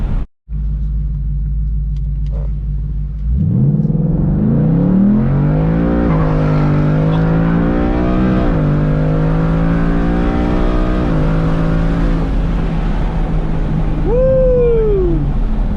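A Ford Mustang fitted with a Lund Racing tune and JLT intake starts with a sharp burst, then accelerates hard through several gears, the engine climbing and dropping at each shift in a loud, close, sustained roar.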